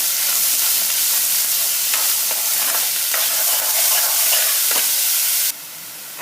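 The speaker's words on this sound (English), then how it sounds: "Add 3 medium onions finely chopped. So just add that and saute." Finely chopped onions sauteing in a pan, a dense continuous sizzle broken by occasional stirring scrapes, ending with a brief quieter hiss near the close.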